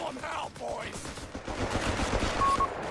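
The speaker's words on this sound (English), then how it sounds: "Strafing run." A strafing run in Company of Heroes 3 rattles off dense, sustained automatic gunfire and explosive crackle, building louder toward the end, with a voice talking over the start.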